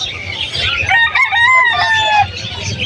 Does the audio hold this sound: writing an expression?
no